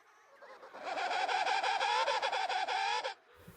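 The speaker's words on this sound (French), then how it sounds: "les couples chantent pour se retrouver." Penguins gathered in a colony call out as couples seek each other among look-alike birds, a dense, loud chorus of harmonic trumpeting cries lasting about three seconds, with quieter ambience before and after.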